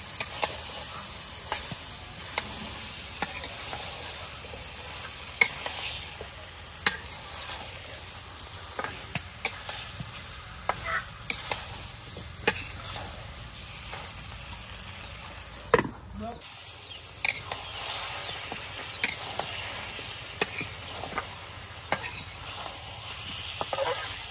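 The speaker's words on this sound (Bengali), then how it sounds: "মাংসটা খুব ভালোভাবে কষে নিছি।" Meat with potatoes being sautéed in spices in a pan, a steady close sizzle with repeated scraping stirs of a spoon throughout, and a voice talking briefly over it.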